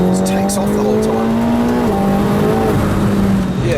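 A McLaren 720S with about 700 bhp accelerates hard on a wet race track, its engine note climbing loudly and steadily up through the gears with brief shift dips, heard close from inside the car.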